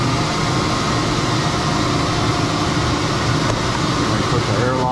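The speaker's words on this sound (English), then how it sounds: "hit a button, and we hit the blower on" A dust collection blower at a sawmill drones steadily at full speed, a dense, loud, unbroken rush of air and motor noise with no pauses.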